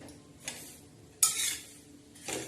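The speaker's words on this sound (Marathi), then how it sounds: "तर आता या पद्धतीने आपण ही खुरसणी भाजत आहोत." Niger seeds (khursani) roasting on a low flame in a pan, stirred with a utensil in three distinct scraping bursts over a faint steady background.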